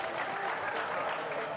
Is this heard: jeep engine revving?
no